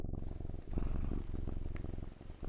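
A house cat purrs close up in a steady low rumbling rhythm, soft and continuous, with faint voices murmuring in the background.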